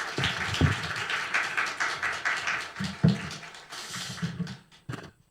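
A congregation claps to welcome a pastor at a church teachers' training event, a burst of mixed applause with a few sharp nearby claps that fades out near the end.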